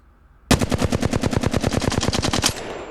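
A Flatline rifle in Apex Legends fires one sustained automatic burst of about twenty rapid, evenly spaced shots, loud and close, then stops and leaves a short fading tail.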